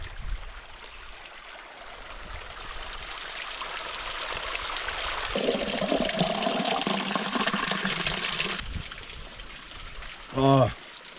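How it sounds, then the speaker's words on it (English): Small stream running off a mountain in the Australian high country, a steady broadband rush of flowing water that swells midway, followed near the end by a brief close splash or gurgle. "That water, that's as fresh and as clean as it gets for a little stream running off the mountain."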